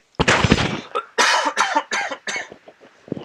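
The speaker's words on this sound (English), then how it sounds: "I should have coughed into my tissue there." A series of close, harsh coughs, about six bursts in quick succession with short gaps, loud and alone.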